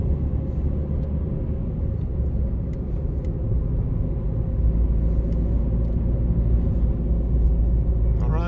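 A car driving through a neighborhood on a sunny day, heard from inside as a steady loud low engine and road rumble that keeps up throughout without talk.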